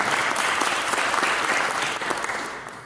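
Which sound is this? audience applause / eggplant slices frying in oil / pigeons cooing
audience applause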